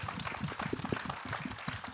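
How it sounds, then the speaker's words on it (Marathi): An audience applauds Ajay-Atul at a trailer launch event, a dense, steady wash of clapping from a large crowd that holds for the full two seconds. "अजय अतुल यांच्यासाठी कडकडीत टाळ्या झाल्या पाहिजेत"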